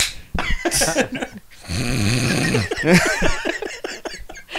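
A voice imitates a loud, rattling snore in the middle, with lively talk and laughter before and after it.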